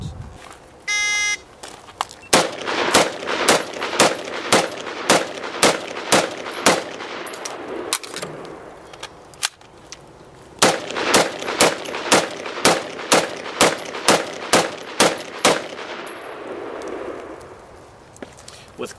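Rifle fire from two 10-round magazines: two rapid strings of loud, sharp shots separated by a brief pause for the magazine change, with a short electronic beep at the start.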